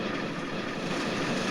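A train in the video game Nine Noir Lives runs someone over, heard as a steady low rumbling roar of rolling rail noise, continuous and moderately loud.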